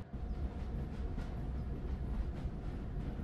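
Model train rolling and accelerating along rails in a train station renovation video game, a steady low rumble with faint rhythmic clatter continuing evenly throughout.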